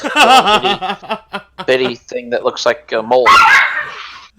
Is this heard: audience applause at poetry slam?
no